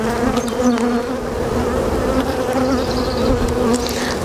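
Honey bees buzz steadily during a hive inspection at a UK apiary, a dense, continuous droning hum close by with individual bees whining past, no voices.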